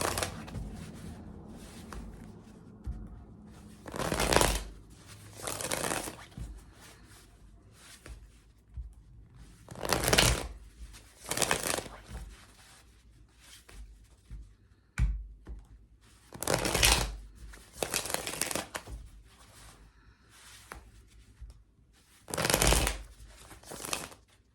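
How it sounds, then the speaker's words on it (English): Tarot cards being shuffled for a reading, in repeated bursts of riffling and flicking separated by short quiet gaps, close and fairly soft, with no talking. "Let's get 3 more shuffles for Gemini."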